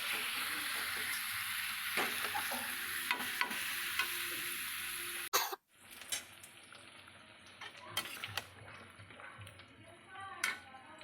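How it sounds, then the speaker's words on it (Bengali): Chicken pieces lifted from milk sizzle and fry in a kadai as they are sautéed for chicken rezala. Steady close-up frying carries sharp stirring scrapes and clinks, and the sound cuts off abruptly partway through before softer sizzling resumes. "এবার আস্তে আস্তে চিকেনগুলোকে কষিয়ে নেব"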